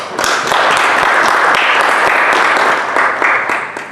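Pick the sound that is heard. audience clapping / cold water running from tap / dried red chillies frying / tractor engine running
audience clapping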